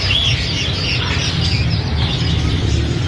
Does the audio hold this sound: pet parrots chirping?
yes